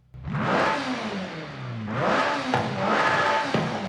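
A McLaren 620R supercar in Forza Horizon 5 revs hard twice, each loud rising engine roar falling back between pulls, close and with no talking over it.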